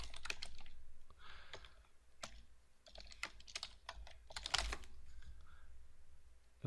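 Rapid keystrokes on a computer keyboard as a username is entered, a steady run of close, crisp clicks with brief pauses and no talking.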